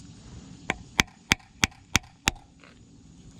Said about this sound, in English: Simply take a flat blade screwdriver, push in, take your hammer, we're gonna hammer it